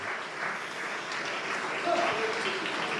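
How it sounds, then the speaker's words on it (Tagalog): A church congregation applauds in a sustained wash of clapping, while voices carry through the crowd. "Habang pumapalakpak ang mga kapatiran"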